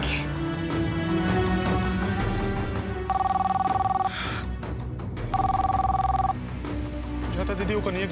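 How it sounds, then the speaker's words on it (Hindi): A telephone ringing in an Indian Hindi-language TV serial, two bursts of trilling electronic ring rising over background music and a repeating chirpy tone. "जाता दीदी वो कन्हैया के फोन है।"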